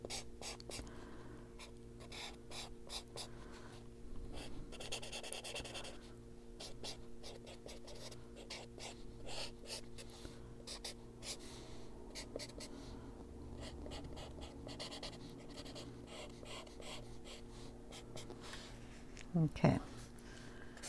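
Colored pencil strokes on paper while filling in an adult coloring page, a soft, steady scratchy rubbing that repeats quickly and close up, with a quiet voice talking over it.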